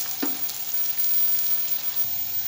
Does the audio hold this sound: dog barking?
no